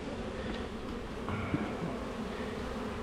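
Honeybees buzzing during a Langstroth hive inspection, a steady low droning hum from many bees close by, with a faint knock partway through and no talk.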